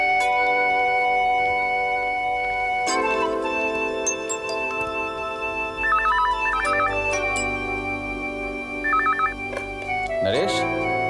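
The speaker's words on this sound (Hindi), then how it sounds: "टेलीफोन" A telephone in a Zee TV drama scene rings in short repeated bursts over music and voices, with people talking around it.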